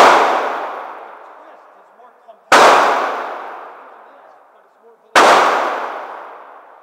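Three loud, sharp blasts from a big gun, evenly spaced about two and a half seconds apart, each followed by a long ringing decay.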